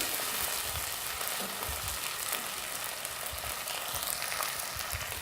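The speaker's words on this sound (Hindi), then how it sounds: "हमारा अदरक लहसुन पेस्ट और सब्ज़ मिर्चें थोड़ी सी भुन चुकी हैं" Ginger garlic paste and green chilies frying in a pan for dhaba-style chana dal, a steady close sizzle with faint stirring scrapes throughout.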